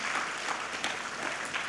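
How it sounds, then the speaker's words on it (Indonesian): Applause for graduating children at an elementary school graduation ceremony, a steady, fairly quiet wash of clapping from a crowd lasting under two seconds with no voices standing out. "Tepuk tangan untuk anak-anak sekalian."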